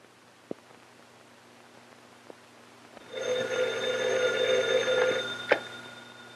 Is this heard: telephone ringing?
yes